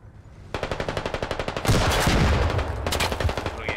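Coaxial machine gun on a BTR-80 armoured vehicle in the Squad video game fires a rapid, loud stream of shots, then breaks into heavier overlapping gunfire before another quick burst, all close and without speech.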